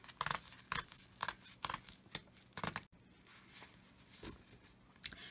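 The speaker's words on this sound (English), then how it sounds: "So that's where I'm going to use this ruler and then do the edges, or rip the edges" Paper card edges torn against a ruler, a series of sharp, close ripping strokes in quick succession, followed by quieter rustling and a last faint tear.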